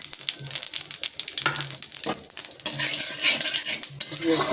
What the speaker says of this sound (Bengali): জিরেটা ভালো করে ভেজে নিতে হবে।